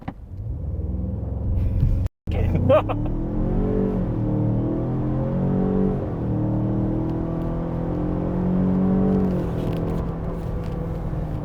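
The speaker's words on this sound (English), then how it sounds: "there is fake engine noise that sounds like a fake V6 being pumped through the speakers" A car engine drones and revs through several rising and falling gear pulls, a smooth, synthetic-sounding hum heard from inside the cabin, after a brief dropout; fake V6 engine noise played through the car's speakers.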